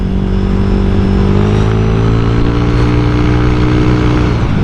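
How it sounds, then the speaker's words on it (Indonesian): A Honda Vario 125 scooter's exhaust drones steadily and loudly, its engine note rising slightly in pitch toward the end. No one talks. "Ini suara knalpotnya enak loh."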